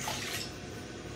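Water is poured into brownie mix in a bowl, a brief soft splashing rush that fades after a moment.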